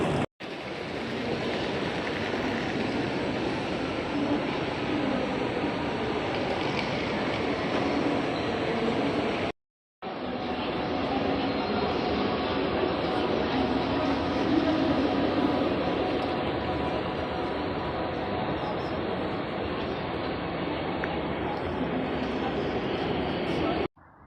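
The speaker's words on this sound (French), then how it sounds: "suis à la gare de train" A train at a German railway station gives off a loud, continuous rushing rumble that holds steady for a long stretch, broken once by a brief gap before the noise resumes.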